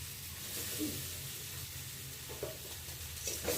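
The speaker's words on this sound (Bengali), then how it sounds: "এখন আমি ভেজে রাখা সয়াবিনটাকে দিয়ে দেবো" Fried soya chunks drop into a ginger-garlic masala and sizzle softly and steadily, with a few light scraping stirs near the end. No one speaks.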